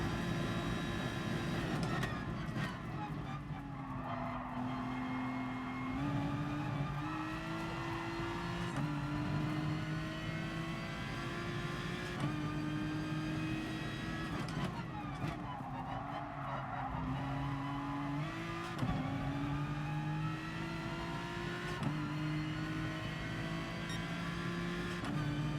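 Aston Martin race car in GT Sport, its tyres wearing, holds a loud, steady engine drone that climbs through repeated gear changes, with skidding and other cars close by, and no talk.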